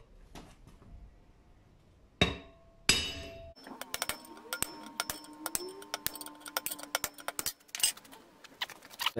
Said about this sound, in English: And a 4-pound hammer.